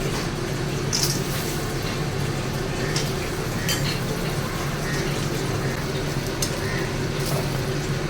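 Bori, lentil dumplings, frying in hot oil give off a steady, close sizzle with scattered crackles and pops, running evenly at a constant level with no talking.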